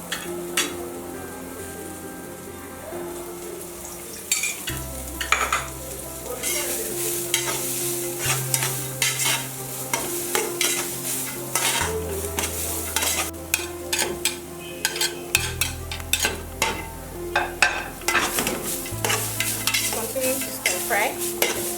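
Cabbage being stirred and fried in oil in a pot while making small chops: steady close sizzle under repeated scraping strokes of a spoon against the pot, with a low hum running throughout.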